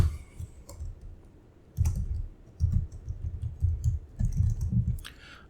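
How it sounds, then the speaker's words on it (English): A password typed on a computer keyboard, with soft irregular key clicks in short bursts and pauses, close and fairly quiet. "I want to actually type in a valid password"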